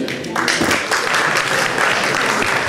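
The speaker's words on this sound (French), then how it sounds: "Et vous pouvez l'applaudir." An audience at a French dinner event applauds steadily, a dense wash of many hands clapping close by that swells after a brief quieter start and holds for nearly three seconds.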